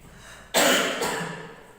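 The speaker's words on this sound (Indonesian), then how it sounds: "Anak-anak lagi batuk nih." A child gives a single sharp, loud cough that fades out over about a second, with no talk around it.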